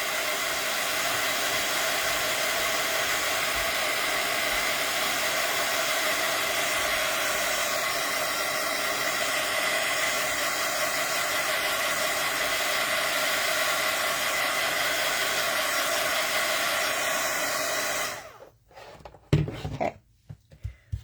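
A hair dryer runs steadily close by for about eighteen seconds, drying paint on a painting before snow is added, then cuts off into a few faint knocks and handling sounds.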